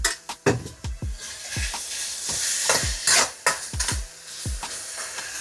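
Shrimp fried rice seasoned with Creole seasoning, tossed and stirred in a hot pan: a continuous close sizzle broken by a string of sharp scrapes and knocks of utensil on pan, no voices.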